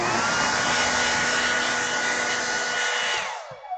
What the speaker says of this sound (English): the hairdryer helps because it scares away the cats because they're all terrified of the hairdryer